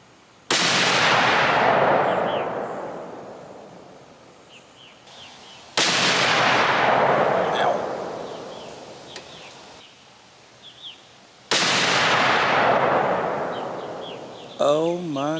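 Three loud, close rifle shots, either .300 Win Mag or .30-06, fired in a group, each a sharp crack with a long rolling echo, spaced about five seconds apart outdoors, with faint birdsong between.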